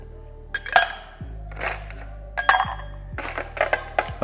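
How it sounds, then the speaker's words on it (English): Ice cubes clatter into a glass for a cocktail at home, several bright clinking drops coming in bursts over a few seconds, close and fairly loud with no talking. "Ice in the glass."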